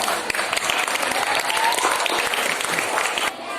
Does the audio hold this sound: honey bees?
no